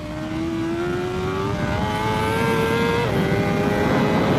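A MotoGP motorcycle, heard from an onboard camera, screams up through the gears along a straight, its engine note rising loud and close with a clear shift break partway through.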